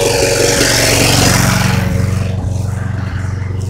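Toro small engine running on choke while warming up, a loud, close, rapid putt-putt throb with steady firing pulses that settle slightly lower in pitch partway through.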